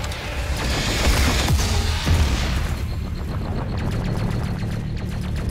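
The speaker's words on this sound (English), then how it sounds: "Shotgun! Yes!" Shotgun blasts in the Doom Eternal video game, a few heavy close booms amid chaotic combat noise, then lighter clattering effects as the action settles; no talk.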